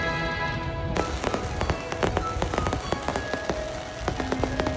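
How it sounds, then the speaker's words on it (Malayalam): Festival fireworks at the Edappally Perunal church feast in Kerala burst continuously, a dense, loud crackle of rapid overlapping pops heard from fairly close. "വെടിക്കെട്ട് ഇങ്ങനെ നടന്നുകൊണ്ടിരിക്കുക ഒരു സെറ്റ് സെറ്റായിട്ടാണ് കേട്ടോ"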